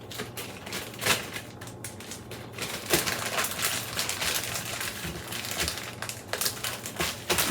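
A knife hacks through a frozen block of pureed garlic, sounding as close, dry crunching and scraping with irregular cracks and crackles that carry on steadily and fill the whole stretch.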